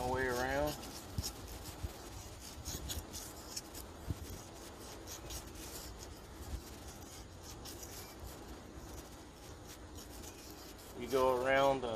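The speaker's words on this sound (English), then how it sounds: "Go around the whole entire crankshaft like that. It's easier to sand on the top" Folded sandpaper rubs around a crankshaft on a Gator Tail drive, a steady close raspy scrubbing that continues throughout, with brief speech at the start and end.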